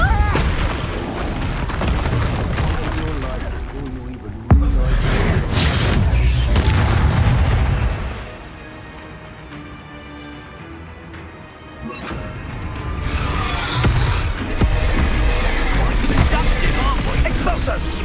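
Spellcasting combat in Hogwarts Legacy: a Depulso push spell hurled at a tough Rookwood foe, with loud booming impacts and crashes over a dense game soundtrack, a heavy burst near the start of the middle section, then a quieter lull before the clash swells again.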